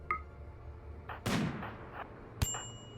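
Gunfire and explosions in RimWorld, a few sharp shots and a heavy blast with a trailing rumble, followed by a metallic ping, under no speech.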